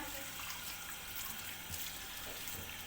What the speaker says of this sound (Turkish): Salamura olduğu için birkaç kere böyle yıkamak istiyor.